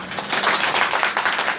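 Indoor audience applause at a devotees' gathering, dense and steady clapping from many hands, fairly loud and sustained throughout with no talk over it.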